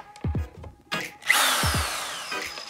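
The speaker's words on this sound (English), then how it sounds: "I'm gonna drill this fucker into my desk." A power drill bores into a desk to mount a fingerboard pole jam, starting with a few short whirring bursts and then settling into a longer, louder grinding run, close up and with no voices.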